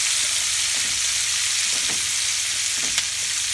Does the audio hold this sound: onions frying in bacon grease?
yes